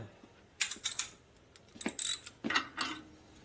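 A ratchet tightens nuts on a 1977 Harley-Davidson Sportster Ironhead 1000cc engine during a rebuild, giving several short bursts of close, bright clicking with brief pauses between them.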